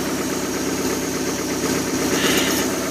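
An OMC 3.0 120 hp marine engine in a 1988 Larson boat idles steadily, a close, continuous mechanical drone with a fine even rhythm and no knock, alone without talk.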